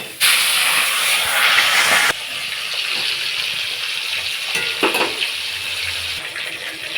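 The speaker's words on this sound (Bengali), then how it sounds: "আর মাছটা ভেজে নেব।" Fish frying in a pan on a home stove gives a loud, steady hissing sizzle that surges at the start, eases slightly after about two seconds and keeps crackling unevenly, with no talking.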